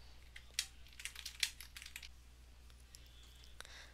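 Quiet keys clack on a computer keyboard as a description gets typed: an uneven burst of clicks, then a few scattered taps, with no talking.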